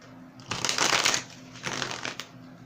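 A tarot card deck being shuffled by hand in two quick riffling bursts, crisp papery flutters close up with a short pause between, no talking.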